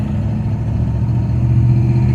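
Steady low engine drone from inside an HSV E40 with a 6L80 automatic transmission cruising in third gear, loud and constant with no talk.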